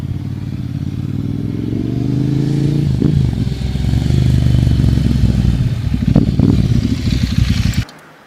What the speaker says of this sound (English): that fantastic Ducati exhaust sound